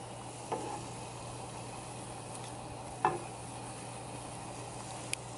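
Oreos deep frying in hot oil make a faint, steady bubbling hiss, with a few soft clicks and taps scattered throughout and no talking.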